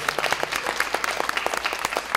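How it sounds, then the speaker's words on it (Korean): An audience at a Korean talk show claps for a few seconds, the individual claps distinct and moderately loud in a room. "박수 한번 주세요"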